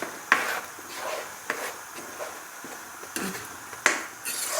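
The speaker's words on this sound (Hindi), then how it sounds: "हम इसको 2 मिनट के लिए लहसुन अदरक के पेस्ट को भून लेंगे।" Garlic, ginger and green chilli paste being sautéed in a pan, with a faint sizzle broken by a few sharp stirring scrapes of a spoon against the pan, fairly close and quiet, no talking.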